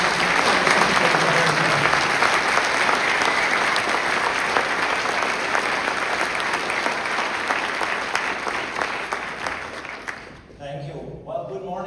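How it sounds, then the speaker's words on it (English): Sustained audience applause fills a conference hall for an opening address, loud and steady for most of the stretch before tapering off near the end. "please give a big round of applause for the Director of the Genesis mission"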